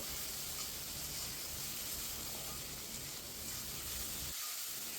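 Chopped tomatoes are tipped into a pan of fried, browned onions for rajma and hiss in a steady, broadband sizzle, close and continuous with no speech.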